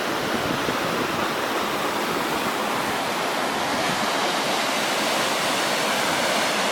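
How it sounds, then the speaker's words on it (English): The Nanaimo River rushes over mossy rocks below an old mining and logging railway bridge, a dense, steady roar of flowing water heard close by without a break. "And the Nanaimo River."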